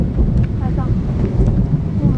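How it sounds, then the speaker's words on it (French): Thunder rumbling during a thunderstorm at an outdoor theme park, a low continuous roar with wind buffeting the microphone and rain noise throughout. "Allez, premier orage, voilà, on est dedans."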